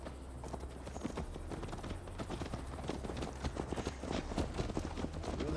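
Horse hooves clip-clop at a steady galloping rhythm while riding in Assassin's Creed Valhalla, loud and continuous with no talking.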